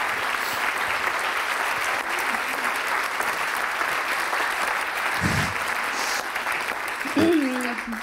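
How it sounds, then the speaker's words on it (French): An audience at the Lausanne book prize ceremony applauding the winner, dense sustained clapping filling the room at strong level, with a voice briefly rising near the end. "Il faut l'applaudir encore bien fort"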